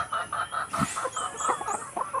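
A hen loose from its coop on a provincial farm clucks in short repeated bursts close by, with other fowl calling faintly in the background.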